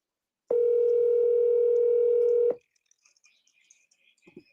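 A single steady telephone tone sounds for about two seconds during an outgoing call that ends up at voicemail, loud and clean, then cuts off, followed by faint small clicks.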